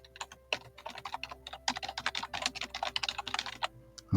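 Rapid, irregular keystrokes on a computer keyboard as a workflow name is typed in, close and clear, with a brief pause near the start and a louder click at the end; no voices.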